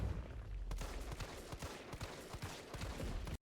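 Rapid handgun shots in the Resident Evil 3 Remake Nemesis fight, a dense burst of sharp cracks over game sounds, loud and close and continuous for about three seconds before cutting off.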